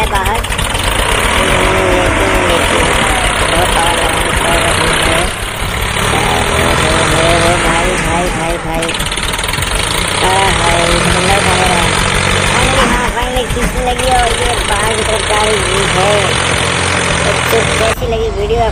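A mini tractor's engine runs hard while towing another tractor stuck in mud, giving a loud, continuous mechanical roar with shifting tones and brief dips, under ongoing talk.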